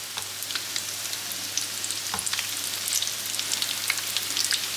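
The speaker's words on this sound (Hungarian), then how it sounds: "Beleteszek még egy bébikét is, és hadd süljön." Csöröge doughnuts fry in hot oil with a steady, dense sizzle and fine crackling pops running throughout, close and even, with no talking.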